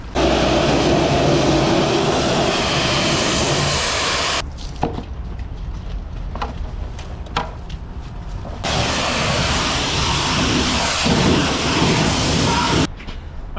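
A pressure water spray rinses down a freshly washed truck in February, a loud continuous hiss that cuts off abruptly and returns, with quieter dripping and clatter in the gaps.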